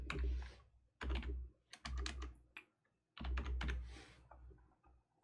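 Typing on a computer keyboard comes through as several close, crisp bursts of rapid key clicks separated by short silences.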